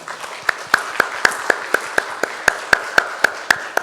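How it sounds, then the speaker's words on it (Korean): Church congregation clapping in slow, even unison, about fifteen sharp, evenly spaced claps over a few seconds with a faint hum of the room between them. "이분들을 위해서 감사의 박수 한번."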